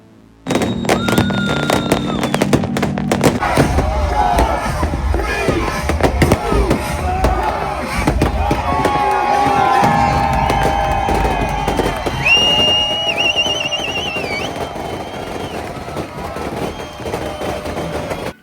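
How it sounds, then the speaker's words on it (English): Booming New Year's fireworks burst again and again in front of the Egyptian pyramids over a loud, cheering crowd, with whistles and rumbling explosions layered across the whole stretch. "together we counted down into the new year, watching fireworks in front of the pyramids"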